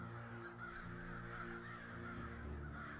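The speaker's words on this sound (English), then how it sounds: "you hear a crow call in the distance." A crow caws repeatedly in a slow series of harsh calls, set against a steady background hum.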